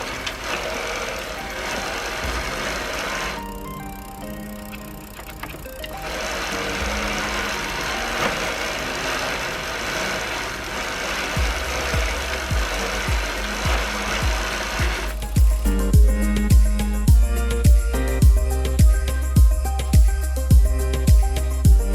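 A road bike chain spun through a chain cleaning device by turning the cranks makes a steady mechanical whirring and rattling, then a rhythmic, loud knocking clatter in regular pulses during the last several seconds, close up with no talk.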